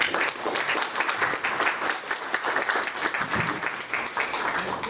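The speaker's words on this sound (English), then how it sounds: "Please give him a huge round of applause." A round of applause for a police guest of honor at a foundation day celebration, many hands clapping in a continuous, even wash, heard at a softer, more distant level.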